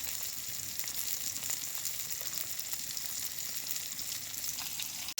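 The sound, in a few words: katla fish frying in a pan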